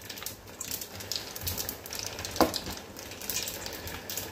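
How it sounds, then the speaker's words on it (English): Mustard seeds popping in hot oil in a pan while poha is stirred in, a steady crackling sizzle with scattered sharp pops and one louder snap near the middle, close up with no talking. "You can hear the mustard popping."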